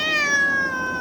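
A cat gives a single clear, drawn-out meow, loud and close.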